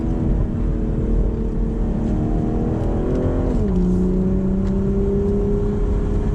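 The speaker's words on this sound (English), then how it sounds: "we're gonna downshift to second, and you can hear how pronounced that was" A 2023 BMW Z4 M40i drones loud and close from inside the car, its engine note holding steady, then sliding to a lower pitch partway through as the gear changes.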